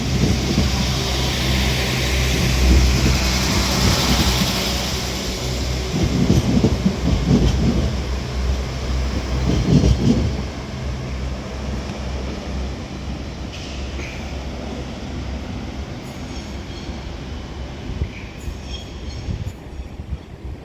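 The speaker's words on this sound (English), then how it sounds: "195117 departs Liverpool Lime Street now with the 1556 Northern Service to Warrington Central" A Northern class 195 diesel multiple unit departs Liverpool Lime Street, its engine rumble and wheel noise loud and close at first, surging through several heavier bursts, then gradually receding and thinning out as the train pulls away.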